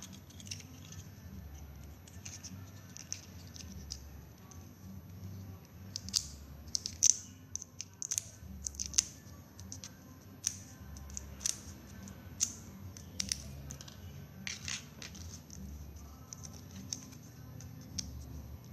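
Scissors snip plastic drinking straws into strips, a quiet, close series of small crisp clicks and cuts in irregular clusters over a soft background hum, with no talking.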